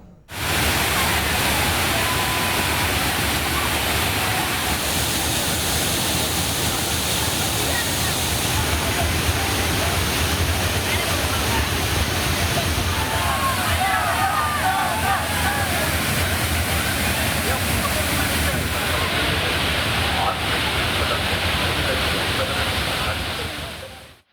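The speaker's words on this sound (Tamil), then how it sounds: "சிறுவர்கள் முதல் பெரியவர்கள் வரை அருவியில் ஆனந்த குளியல் போட்டனர்." Hogenakkal waterfall on the Kaveri roars as a dense, unbroken rush of falling water. Tourists are bathing there, and faint crowd voices are buried beneath the constant wash.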